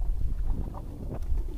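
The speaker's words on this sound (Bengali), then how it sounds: "ঢেউ দেখুন, ঢেউ প্রচন্ড ঢেউ, কিন্তু হাওয়া চলছে যার জন্য ঢেউ অনেক" Strong wind and choppy waves buffet a prawn-fishing boat, a short burst of low, blustery rumbling with irregular gusts and splashes close to the microphone.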